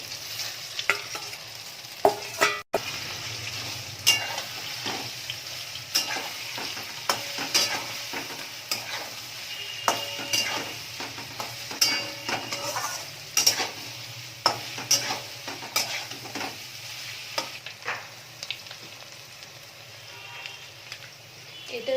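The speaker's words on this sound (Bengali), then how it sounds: "তেলটা কিন্তু খুব ভালো করে গরম হলে তবেই কিন্তু সোয়াবিনগুলো দেবে" Egg-coated soybean chunks fry in hot oil with a steady crackling sizzle, broken by frequent sharp pops and stirring clatter throughout, close and fairly loud with no talking.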